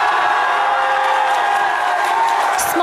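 Supporters at the No campaign headquarters in Glasgow roar and cheer in celebration, a loud, dense wash of crowd noise with whoops rising over it.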